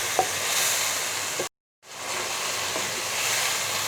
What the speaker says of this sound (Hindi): अब ये जो हमारी तली हुई चिकन थी ये इसमें डाल देंगे।